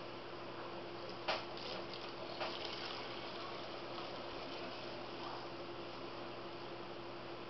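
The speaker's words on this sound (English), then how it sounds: "Next, just pour it into your little container." Homemade saltwater poured into a small container, a faint continuous gushing trickle of liquid with a couple of soft knocks early on, quiet and close.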